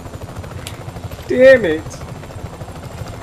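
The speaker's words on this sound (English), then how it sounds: "I don't want to leave that chopper, man." A helicopter in the video game Just Cause 3 keeps up a steady low rhythmic rotor thrum throughout, running under a man's excited speech.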